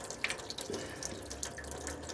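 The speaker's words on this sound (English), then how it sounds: "Let's undo this bolt and drain it out. And here we are, draining it out." Coolant drains in a steady trickle from the radiator of an Aprilia Caponord motorcycle into a tray, a continuous close pouring and splashing with faint drips and no talk.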